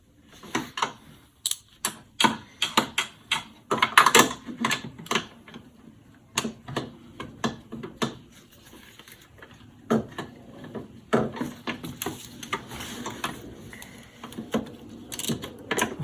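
Ratchet wrench with a large socket tightening a bolt during a timing belt job on a Renault Clio 1.4 K4J engine, rapid close clicking bursts repeating in quick strokes with brief pauses between, loud and alone.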